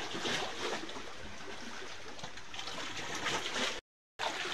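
Water flowing along a rocky stream sends a continuous, moderately loud rushing and trickling wash that stays steady before a brief drop-out near the end, with no voices.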